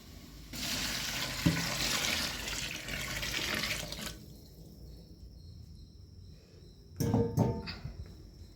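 Water poured into a pot of rice for spicy pulao, a steady broadband gush lasting about three and a half seconds, then quiet, then a shorter splashing pour near the end.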